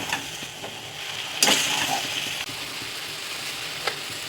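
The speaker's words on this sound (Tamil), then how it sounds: "இப்போ சோயா பீன்ஸ் போட்டுக்கலாம். இதிலே போட்டு அப்படியே வதக்கிக்கலாம்." Soya chunks sautéing in a pan: a quiet, low sizzle with occasional sharp scrapes and clicks of stirring, close by and without voices.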